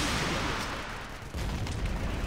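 Tank shelling from the Empires mod game booms and rumbles in a dense, loud burst, fading briefly before another heavy blast hits, with no voices.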